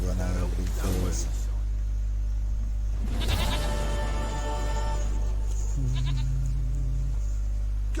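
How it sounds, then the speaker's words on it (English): A goat bleats repeatedly in The Witcher 3, its wavering cries loud and near over a steady game hum, with a voice talking in between. "Goat of mine, dearest, sweetest goat."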